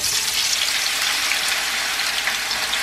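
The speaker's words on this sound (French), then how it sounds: "Je mets l'huile à chauffer, surtout les pommes de terre dans l'huile bien chaude." Potato pieces fry in well-heated oil for a Spanish tortilla, giving a dense, steady, hissing sizzle that stays close and fairly loud throughout, with no talking.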